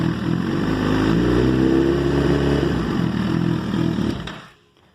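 A Suzuki GSXR1000 motorcycle engine, fitted with a new rectifier and stator, revs loudly and up close, holds a high steady drone, then drops away abruptly to near silence at the end.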